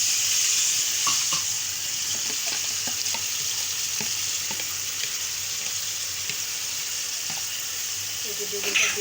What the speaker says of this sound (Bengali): বেগুনটা দিয়ে দিলাম, ভালো করে নেড়ে চেড়ে নেবো গাইস।